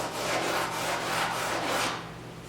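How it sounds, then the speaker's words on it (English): Hand sanding on the bodywork of a 1972 Triumph GT6 under restoration, a steady close scratchy rubbing in repeated strokes for about two seconds before it stops, with a faint low hum underneath. "I still have to sand here, right?"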